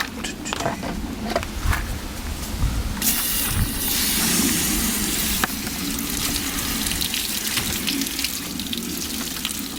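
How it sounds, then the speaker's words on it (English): Freshly dug beetroot and potatoes rinsed under a running outdoor tap, a steady close gush and splash of water that swells louder midway and continues throughout. "Get them a quick rinse."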